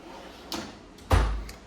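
A drawer in a mechanic's tool setup slides and knocks shut, with a light first clack followed by a heavier thud, close by with no talk.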